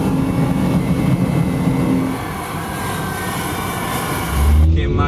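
A Lancia sports car drones loudly on the road, its engine note steady and rough under cabin and road noise, with a brief voice and a heavy thump near the end.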